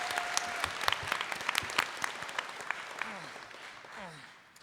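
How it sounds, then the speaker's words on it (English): A convention audience at the Power Rangers Time Force 15th anniversary panel at Power Morphicon 2016 claps in a dense burst of applause that slowly thins out, with voices speaking over it and a few cheers. "So give yourself a round of applause."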